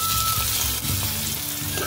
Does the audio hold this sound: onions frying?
yes